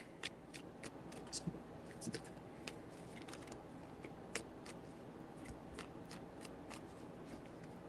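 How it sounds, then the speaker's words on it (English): Tarot cards are shuffled close by in a soft, steady stream of riffling flicks and slaps with no pause. "Four shuffles."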